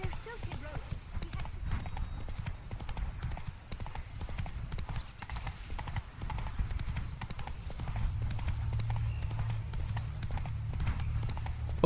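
Hooves clip-clop in a fast steady rhythm as a horse gallops in the Witcher 3 video game, continuous and close under a low rumble, with a voice speaking over it.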